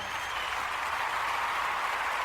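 Applause for a podcast host and his listeners: a steady, dense wash of many hands clapping, even in loudness throughout, with no voices over it.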